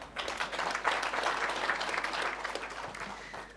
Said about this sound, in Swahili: Simnipigie makofi.